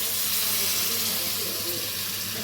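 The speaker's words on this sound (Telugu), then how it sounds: "చూస్తున్నారా, ఇలా చక్కగా మరుగుతుంది కదా." A pot of water comes to a rolling boil for cooking quinoa, a loud, even, close-up hiss of bubbling and steam with no break.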